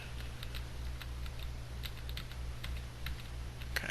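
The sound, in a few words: typing the space key on a computer keyboard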